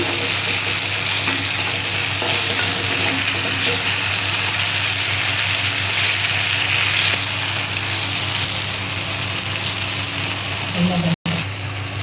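Mung dal fritters (bora) fry in hot oil with a loud, close, continuous sizzle and crackle, holding steady for the whole stretch with a brief utensil knock near the end.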